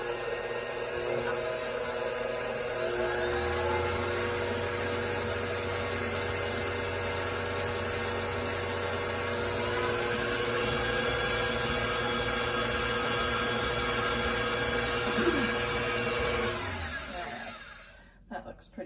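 An electric mixer whirs continuously through cookie batter with vanilla added, a steady close motor hum with slight shifts in pitch before it cuts off near the end.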